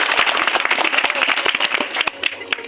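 A live audience claps loudly and continuously at a spoken event, dense applause close up with scattered sharper claps, steady for a couple of seconds before thinning slightly at the end.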